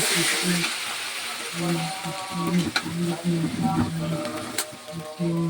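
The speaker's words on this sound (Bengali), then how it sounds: "সুন্দর করে নাড়াচাড়া করতে হবে যাতে মশলাটা সুন্দর করে কষে যায়" Spiced meat curry masala sizzles loudly in hot oil while it is stirred and scraped steadily, with a tonal, voice-like sound running faintly underneath.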